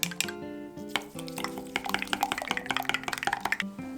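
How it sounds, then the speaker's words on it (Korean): Two eggs with a little salt are whisked briskly in a bowl, quick light tapping and sloshing strokes repeating close up with no talking. "소금 조금 넣고 풀어주세요."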